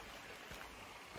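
A peaceful stream flows beside a hiking trail in Pinnacles National Park, California, giving a faint, steady, even wash of water that carries on without any voices.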